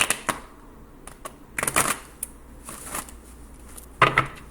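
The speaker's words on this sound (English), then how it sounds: "I just took the rejection and put it back in the deck, shuffled" A deck of tarot cards being shuffled by hand in a quiet room, several short crisp riffling bursts and taps spaced irregularly, close and clear with no talking.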